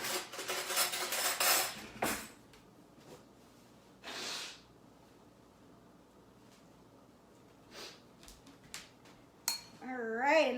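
A spoon stirs pico de gallo in a dish, giving a few scraping clinks against the bowl between quiet pauses, with a brief voice heard toward the end.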